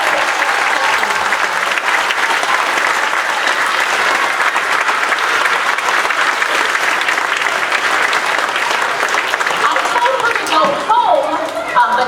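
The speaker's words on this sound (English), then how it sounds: "Let's give her a round of applause for her." Sustained audience applause fills a school spring concert hall at an elementary school, a steady loud wash of many hands clapping for about eleven seconds before it fades and voices emerge.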